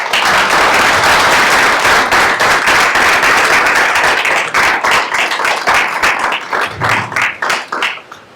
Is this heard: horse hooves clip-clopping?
no